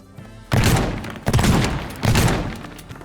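Three heavy shotgun blasts in the video game Teardown tear through a wall, each a loud booming crack followed by crumbling debris, spaced under a second apart.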